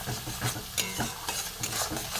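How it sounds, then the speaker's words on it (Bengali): A spatula repeatedly scrapes and stirs a sizzling paste of onion, ginger, garlic and tomato with coriander powder in a pan for egg dopiaza, in a steady close rhythm without talk. "এবার আমি কষবো এটাকে"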